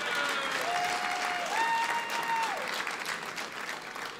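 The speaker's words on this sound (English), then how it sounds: "That deserves more applause." Sustained applause from a sizable dinner audience fills the space, with a brief tonal whistle or voice rising over the clapping.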